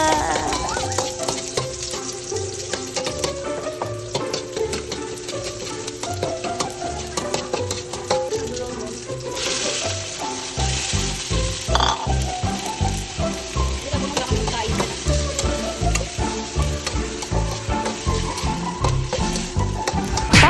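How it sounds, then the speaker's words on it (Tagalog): Chicken adobo sizzling and frying in a pan, a steady crackling hiss throughout with occasional stirring and some background music, no talk. "nagluto na rin ako ng aming ulam, ang chicken adobo."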